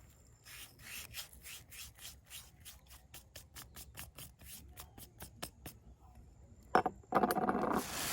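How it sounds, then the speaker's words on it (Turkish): Crushed eggshells are poured into a pot of soil, mixed as tomato fertilizer, making a rapid series of crisp rattling, crackling ticks up close, followed by a louder rustling burst at the end. "Şimdi yumurta kabuklarında sıra. Hepsini döküyorum içine."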